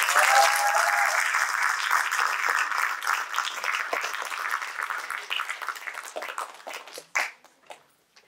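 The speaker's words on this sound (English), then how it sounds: "So if you give them a big round of applause," Theatre audience applauding at a drama festival, a dense broad roar of clapping that thins and tapers toward the end, with a few last claps before silence.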